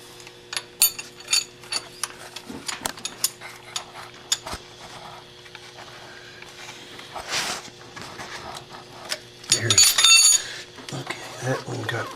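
Ratchet wrench loosening the injection pump bolts on a Mercedes 300D diesel engine: scattered sharp clicks and short ratcheting bursts close by, with a denser clattering run near the end.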